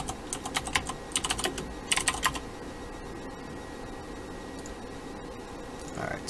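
Typing on a computer keyboard while playing World of Warcraft, bursts of quick close key taps in short clusters, then a quieter stretch with only a few scattered clicks over a faint background hum.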